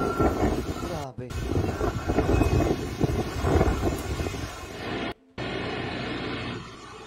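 Strong typhoon winds from Pepito's landfall roar and howl as a dense, continuous rush close to the microphone, buffeting it, with two brief dropouts and voices underneath.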